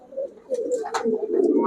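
Pigeons coo in a pigeon shop, with low rolling calls rising and overlapping up close alongside a few brief sharper rustles and chirps.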